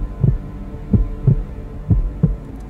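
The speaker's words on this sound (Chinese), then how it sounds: "我把这个心跳的声音抬起来，" A heartbeat sound effect, raised in volume for a short product ad featuring a donkey-hide gelatin cake, thumps five times in a slow, steady rhythm with deep, soft beats over a faint hum.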